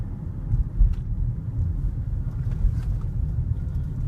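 A 2013 Lexus RX350 cruising along a road: a steady, low rumble of engine and tyre noise with faint wind, continuous and even throughout, with no voices.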